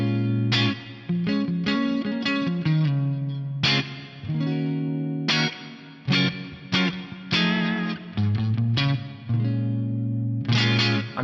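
Electric guitar played through an Axe-FX Band Commander clean amp with two stacked overdrive blocks, South Church reverb and a cabinet IR, chugging in loud, crunchy bursts of chords and riffs with short pauses between phrases.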